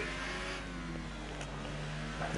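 A Renault Formula 1 car in the F1 2018 racing game at the Hungary circuit, its engine holding a high steady revving whine with rising pitch, loud and continuous throughout.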